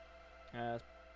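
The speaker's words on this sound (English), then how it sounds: "which is a pad pack that a friend gave me." A second synth pad from a pad pack given by a friend swells in briefly as a sustained, rich harmonic chord, held for roughly a quarter second above a steady low drone, then cutting off cleanly.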